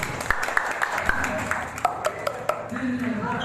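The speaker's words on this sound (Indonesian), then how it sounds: "tepuk tangan aja ke Bang Puy dulu" An audience claps for Bang Puy at a Lebaran performance, with scattered, uneven claps under lively overlapping chatter and voices.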